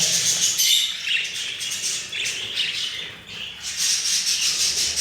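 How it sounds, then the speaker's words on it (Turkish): Jumbo budgerigars in an aviary squawk and chirp in overlapping bursts, a busy chorus of shrill, scratchy calls rising and falling over five seconds, fairly close, with no speech. "Salmada yeşil kuş sayısı bayağı arttı ya."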